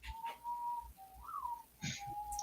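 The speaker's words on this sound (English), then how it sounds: "the whistling bird in the back" A bird whistles steady, sustained tones with a slight rising glide in the middle, soft and somewhat distant, with a faint low rumble beneath.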